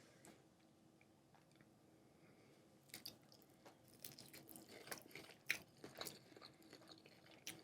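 Shrimp dipped in butter with lemon is bitten and chewed, bringing faint close crunches and wet mouth sounds that start after a quiet opening and grow busier toward the end.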